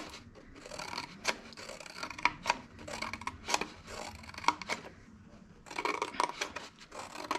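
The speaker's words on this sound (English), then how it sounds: "I'm going to cut this with a pair of scissors" Scissors snip through paper in a quiet indoor art session, producing a string of short crisp cuts at an irregular pace, close and soft, with no talking.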